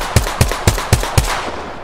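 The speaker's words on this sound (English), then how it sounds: "Shooting at me." Five evenly spaced, punchy gunshots in Apex Legends fire in a steady semi-automatic rhythm about a quarter second apart, close and loud, with a short tail after the last.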